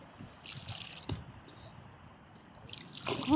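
A boat is paddled through strong river current: soft splashes and dripping water from a few paddle strokes, with a sharper splash near the end.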